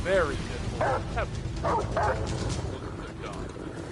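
A dog gives short yips and whimpering barks in several bursts, close and fairly loud, with a person talking over it.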